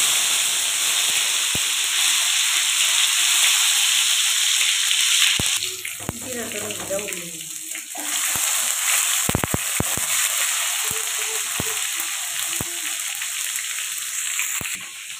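Cut potatoes drop into hot oil already seasoned with cumin and tomato, left over from frying pointed gourd for a Bengali potol chingri dish. A steady hiss and sizzle runs throughout, with a burst of crackle and spatter partway in and sharp pops here and there.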